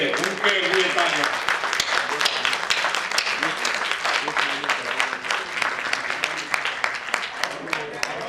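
Audience applause at a Hindi-Urdu cultural gathering, dense sustained clapping filling the whole stretch at steady loudness, with voices faintly mixed in.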